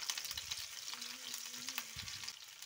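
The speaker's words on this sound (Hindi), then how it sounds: "लहसुन को हम एकदम लाल होते तक पका लेंगे" Garlic fries in hot oil for mustard greens, a soft, faint sizzle with occasional stirring scrapes and a quiet background hum.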